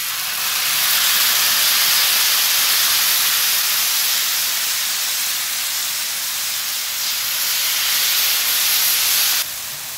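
Marinated carne asada steak sizzles on a hot griddle in a loud, steady, hissing crackle that fills the whole stretch without pause, close up, with no talking.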